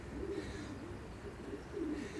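A racing pigeon hen, a long-distance breeder of mostly Bennett lineage, gives soft, low cooing phrases, two rounded coos a moment apart, fairly faint and close, with no speech over them.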